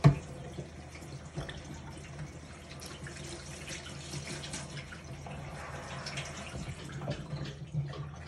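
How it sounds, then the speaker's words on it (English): Tap water running steadily into a sink while hands are washed, a continuous close splashing hiss with small bursts of spatter and no talking. "Go ahead and wash your hands like you normally do."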